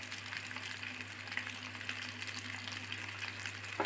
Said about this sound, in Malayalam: അതെല്ലാം ഒന്ന് ഫ്രൈ ചെയ്തെടുക്കാം നല്ലപോലെ.